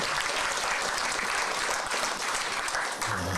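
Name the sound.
audience applause at a press conference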